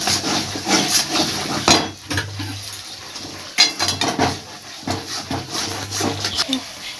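Paneer mixture with salt and sugar sautés in a pan, heard as repeated spoon scrapes and clinks against the metal with a low frying hiss, while a person talks over it.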